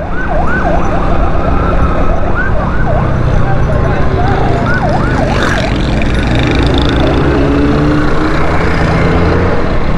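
A rapid yelping ambulance siren warbles loudly over dense traffic noise near the Lyari Expressway, Karachi, fading after a few seconds while engines keep rumbling and someone talks.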